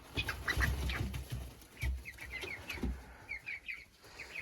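Young golden partridge chickens and a bobtail rooster cluck softly nearby in short, scattered calls, with a few low thumps and rustles underneath and no one speaking.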